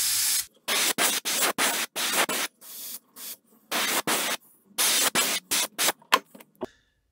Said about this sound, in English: And I'm gonna spray that